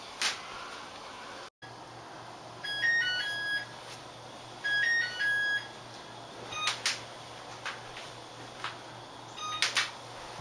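Oven timer in a home kitchen beeping during peach canning, several short bursts of electronic tones at about 3 and 5 seconds over low room hum, with a few clicks and clatters of jars nearby.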